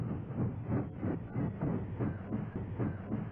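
A freight train engine pulls into a rail yard with a rhythmic, pulsing chug and rumble, fairly close and steady, with no talking.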